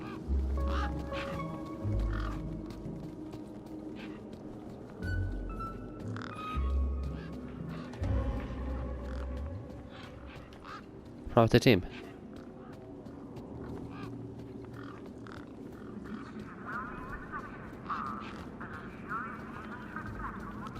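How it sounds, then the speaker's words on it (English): Birds quacking and honking in Beyond a Steel Sky, scattered calls under a voice that speaks now and then, with one louder sharp burst partway through. "I think I've got to lure these birds over here, maybe."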